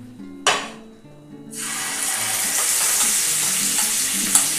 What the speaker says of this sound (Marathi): ते आपल्याला आता याच्यात फ्राय करायचे आहेत।